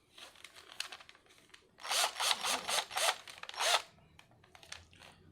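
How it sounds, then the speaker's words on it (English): A cordless 18-volt power drill with a 16 millimeter bit bores into a carbon rear diffuser in short grinding bursts, loud and close, with pauses between and no talk. "16 millimeter drill bit is what I'm using."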